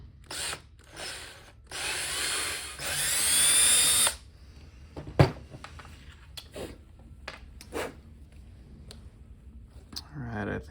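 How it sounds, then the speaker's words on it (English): A power drill bit grinds out a hole for tapping during Suzuki SV650 motorcycle headlight work, in loud, close bursts with short pauses, then quieter clicks and handling noises. "the sharp edges on this drill bit will likely just hog this out"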